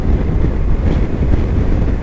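Wind buffets a motorcycle helmet peak on a blustery road ride in Perthshire, a steady loud low roar and rumble that fills the whole stretch with no pauses.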